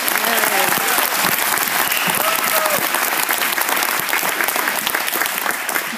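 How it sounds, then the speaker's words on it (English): An audience applauds steadily in a hall after a basketball speech, dense clapping at a constant loud level throughout with some crowd murmur underneath. "Hope you guys will give him another round of applause."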